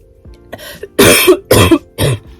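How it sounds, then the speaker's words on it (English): Three sharp, loud coughs in quick succession after a few faint throaty sounds, close to the listener. "Excuse my coughing"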